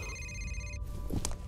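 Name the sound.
telephone ringing in video game F.E.A.R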